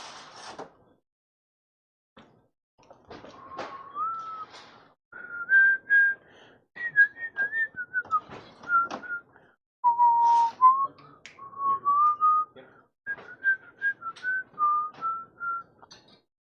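Someone whistles a tune in short clear phrases with brief pauses between them, close by and alone, with a few faint clicks in the background.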